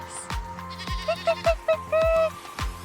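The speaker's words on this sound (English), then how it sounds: "a little pygmy goat keeps making a run for it" Pygmy goat at a safari animal park bleating in a series of short, nasal calls followed by one longer drawn-out bleat, loud and close, with rhythmic thumping and other background noise around it.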